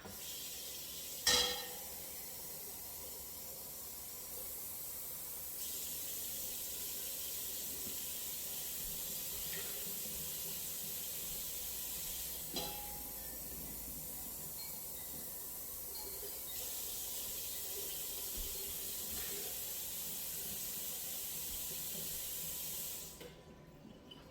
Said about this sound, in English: Okay, 4 cups of water.